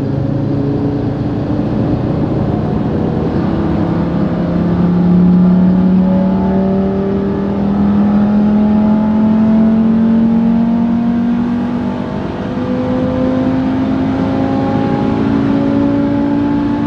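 An Audi TT RS with 500 hp accelerates hard through the gears on a power test, its loud engine drone climbing steadily in pitch, dipping briefly at each gear change, then rising again close up and continuous.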